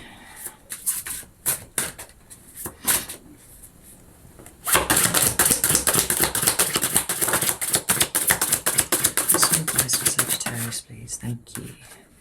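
Tarot cards being shuffled by hand, a few soft riffles followed by a long run of rapid, close flapping and snapping of the deck.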